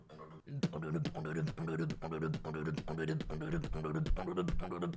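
Beatboxed rolling bass made by mouth, a voice imitating a pulsing bassline in a steady repeating rhythm, close and loud, part of a layered beatbox cover with dense vocal textures throughout.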